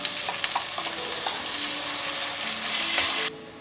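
Ginger garlic paste sizzles and fries in a hot pan with steady crackling, near and loud, with faint stirring scrapes and a sudden drop to quiet at the end.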